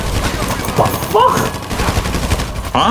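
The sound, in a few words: gunfire in the video game GTA V Online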